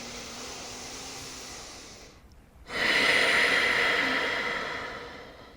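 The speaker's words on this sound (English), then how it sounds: "let's take 3 deep cleansing breaths together" A deep cleansing breath taken during a gentle yoga flow: a long, soft inhale, a brief pause, then a louder, airy exhale close to the microphone, with no talking.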